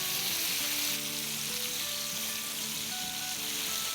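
Mushrooms and chicken pieces sauté in a pan with a dense, continuous hiss of sizzling oil, fairly close and steady throughout, with a faint tonal hum underneath.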